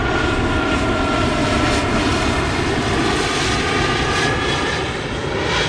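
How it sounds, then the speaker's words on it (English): A motorboat on the Little Miami River passes with a loud, steady engine drone, close by and alone for about six seconds, holding an even level before easing slightly at the end. "Those guys who just went by in their boat"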